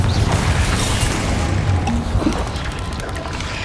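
Confringo explosive spell from Hogwarts Legacy, a loud, rumbling blast with a crashing impact that stays heavy and low for a few seconds before easing slightly.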